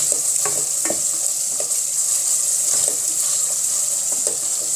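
Masala for kaddu kofta roasting in oil in a pan: a loud, constant bright sizzle with soft scraping stirs and small pops, close up, with no talking.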